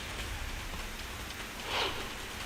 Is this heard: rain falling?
yes